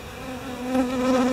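A honeybee swarm clustered around a European hornet, the intruder caught in the middle of the ball, gives off a steady, close buzzing drone that swells slightly partway through and keeps going without a break.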